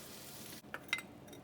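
Hot oil tempering with red chili and garlic poured over cooked dal, giving a steady close sizzle that cuts off briefly, then a couple of sharp crackling spits and a soft clink as the pouring ends.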